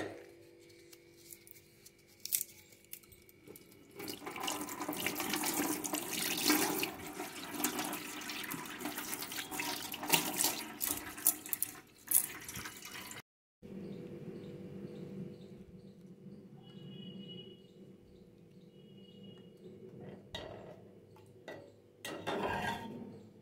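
Cardamom pods and bay leaves are rinsed under running water in a kitchen, with a gushing tap, splashing and clinking of a bowl for several seconds, then a brief pause followed by quieter trickling and handling.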